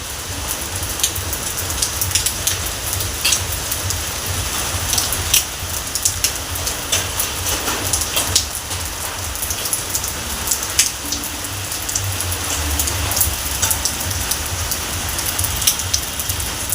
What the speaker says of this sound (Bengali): সারা রাত দিন ধরেই চলছে বৃষ্টি।